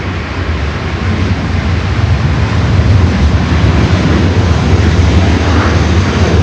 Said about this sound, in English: Dreamliner about to touch down at 24